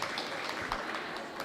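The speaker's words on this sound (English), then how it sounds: "well-deserved round of applause" Applause from a Hausa popular culture arts festival audience, a steady wash of clapping that stays fairly faint and even through the short stretch, with no talking over it.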